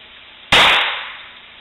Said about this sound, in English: paintball Flintlock pistol.